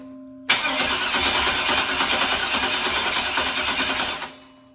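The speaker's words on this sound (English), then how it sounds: "I'll throw some fuel in it and I'll see if it fires off" A carbureted LS V8 swapped into a 1971 El Camino cranks and catches, running loud and rough for about four seconds before cutting out, with a faint hum before and after.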